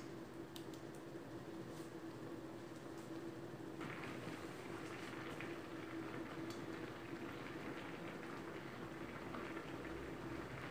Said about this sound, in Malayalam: ഇപ്പം നമ്മുടെ കറി തിളച്ച് വന്നിട്ടുണ്ട്.